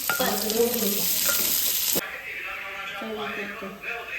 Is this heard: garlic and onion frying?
yes